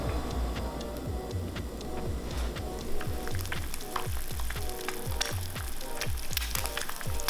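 An egg, yolk removed and white stirred, frying in a hot pan: a soft, steady sizzle with scattered crackles and ticks throughout, fairly quiet and with no talking.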